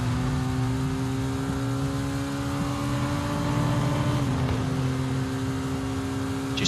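Mazda RT24-P prototype race car at the 2021 IMSA Petit Le Mans, its engine giving a sustained loud drone with a steady tonal whine and a slight pitch shift midway, without speech.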